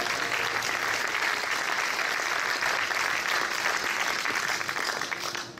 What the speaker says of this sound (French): Je vous demande de faire un tonnerre d'applaudissements pour Louise Monod.